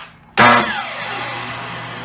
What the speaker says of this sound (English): miter saw, it will automatically turn on the dust extractor below.